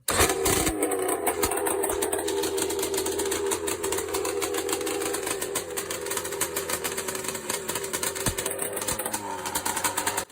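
A two-stroke 1000 cc motorcycle engine runs steadily and loudly close by, with a raspy, buzzing, rapid-firing note and dense harmonics that hold constant throughout without pause.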